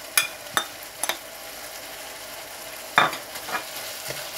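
Chopped onion goes into frying keema for aloo keema, with sharp spoon scrapes and knocks against the pan over a low steady sizzle, several separate stirring strokes spaced apart.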